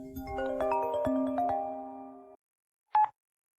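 A phone rings with a bright melodic ringtone of overlapping chiming notes for about two seconds, then cuts off. After a short silence a single beep follows, close and clear, with no talking.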